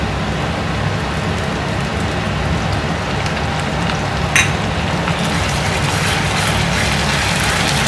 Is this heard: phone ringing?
no